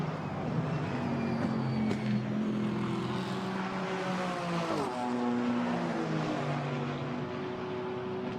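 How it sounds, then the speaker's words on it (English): A Mercedes GT4 race car at Spa heading down into the Cours Paul Frere, its engine note climbing and falling through gear changes as it passes, loud and fairly close, with no talk over it. "there is the Willem Meyer Mercedes heading down once more into the Cours Paul Frere"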